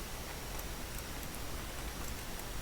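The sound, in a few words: rain falling in the video game Planet Zoo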